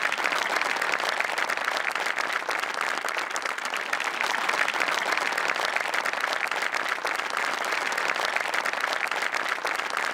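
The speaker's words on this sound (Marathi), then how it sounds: "एकदा जोरदार टाळ्या झाला पाहिजे त्यांच्यासाठी." A large studio audience at a Marathi comedy show applauds loudly. The clapping is thick and continuous, holding at an even level for about ten seconds with no talking.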